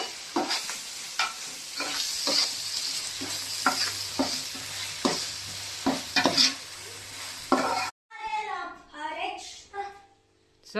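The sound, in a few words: tomatoes and green chillies frying in a pan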